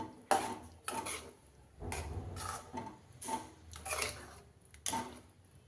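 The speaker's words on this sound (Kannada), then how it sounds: "ಸ್ವಲ್ಪ ಕಸ್ತೂರಿ ಮೇಥಿ ಇಷ್ಟನ್ನು ಹಾಕಿ ಮಿಕ್ಸ್ ಮಾಡ್ತಾ ಇದ್ದೀನಿ" A spoon stirs kasuri methi into paneer butter masala in a pan, giving a series of distinct scraping clinks of metal against the pan, roughly one every second, close and fairly quiet.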